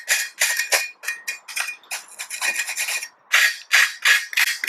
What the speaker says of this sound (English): So we can use this knife to just give it a quick scrape.